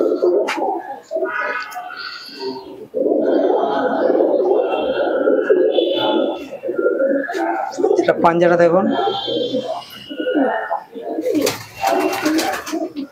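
Andhra tournament pigeons, including a female, give soft, throaty coos in the background under steady close-up talk from a man handling the birds.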